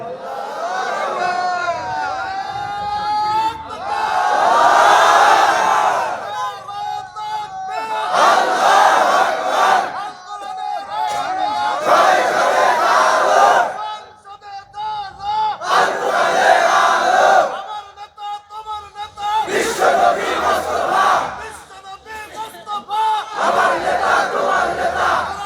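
A large crowd at a Bengali Islamic religious gathering chants takbir in repeated loud, rhythmic waves, a lead voice calling and the mass of voices answering several times with brief pauses between.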